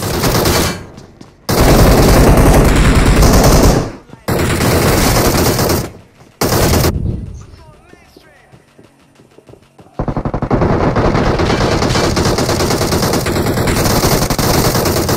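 Loud bursts of automatic gunfire in a BGMI battle royale fight come in long rapid volleys, broken by abrupt silent gaps and a quieter stretch before the firing resumes.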